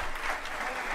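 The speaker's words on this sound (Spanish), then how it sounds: "bien fuerte y merecido el aplauso para el septeto de Juan Pablo Navarro" Applause from a theatre audience for a tango septet, a dense, steady wash of clapping that holds at a constant loudness throughout with no voices on top.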